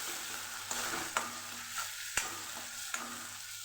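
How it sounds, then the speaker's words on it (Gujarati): Chopped tomato is stirred into sautéed ginger and green chili in a pan, with a steady soft frying hiss and a few sharp spoon clacks against the pan, close and moderately quiet. "ટમેટું સુધારેલું છે એ ઉમેરી દઈશું એને પણ સરસ મિક્સ કરી દઈશું"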